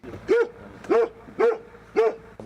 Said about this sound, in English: A pack of dogs greeted us at the helicopter pad.